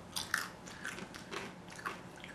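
Several crisp crunches from biting into crunchy Doritos chips, close and quiet, arriving in short irregular bursts.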